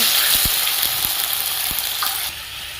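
Tomato paste fries in hot oil with cumin and bay leaves, giving a loud, dense sizzle close by with a few soft stirring knocks, easing slightly toward the end.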